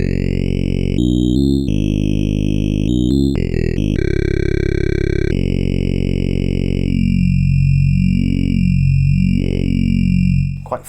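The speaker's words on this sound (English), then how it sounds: "if we modulate it in an audio rate rather than low frequency rates, obviously we're going to get some FM style sounds through the filter" A Behringer 2600 synthesizer with an oscillator modulated at audio rate through the filter gives harsh, buzzy FM tones that jump between pitches, then settle into a sustained drone with a slowly sweeping, vowel-like filter.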